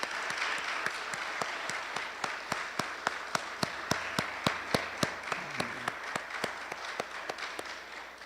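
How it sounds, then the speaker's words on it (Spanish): A church congregation claps together for the Lord during a Spanish-language worship service, a steady wash of many hands with sharp rhythmic beats standing out, moderately distant and without talk. "¿Me le damos un fuerte aplauso al Señor?"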